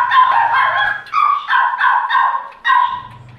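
Forty-day-old double-bloodline golden retriever puppies bark and yip in quick, overlapping bursts, close and loud, with short pauses between the volleys.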